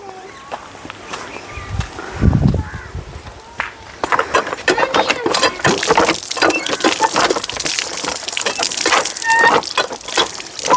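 Water runs and splashes at a hand pump while something is washed outdoors during home Sankranti cooking, a steady, fairly close gush starting partway in, after some thuds and shuffling, with a voice briefly heard.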